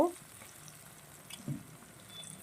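Ginger garlic paste frying in a pan with onion and tomato, a faint soft sizzle with a brief stir or clatter midway, and a voice briefly heard at the very start.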